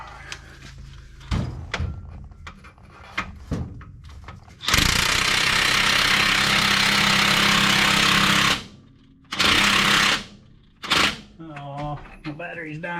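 A battery impact wrench with a deep well socket running up a bolt on a 1970 GTO with an LS swap, a loud sustained hammering burst followed by shorter bursts, with workshop clunks and brief talk around it.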